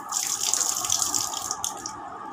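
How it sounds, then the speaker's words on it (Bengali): Running tap water splashes steadily while a face is rinsed with plain water during a skincare routine, a continuous close hiss and patter that eases off near the end, with no talking. "নর্মাল ওয়াটার থেকে আমি এটা মুখটা ধুয়ে নিচ্ছি, ক্লিন করে নিচ্ছি।"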